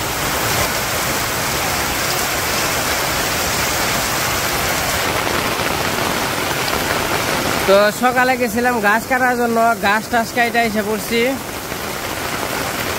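Steady rain falls over a village at midday, a constant close hiss of drops on surfaces throughout, with someone talking over it in the second half.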